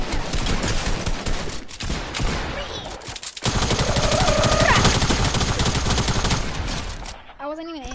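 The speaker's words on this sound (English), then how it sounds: "What are you shooting at?" Rapid bursts of video game gunfire fill most of the stretch, loud and dense, with a short gap near the middle; players talk over the shooting and a bright tone rings briefly toward the end.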